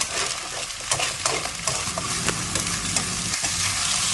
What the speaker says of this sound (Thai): จากนั้นก็ผัดต่อเลยค่ะ